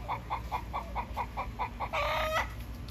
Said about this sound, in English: This is the egg song, ladies and gentlemen.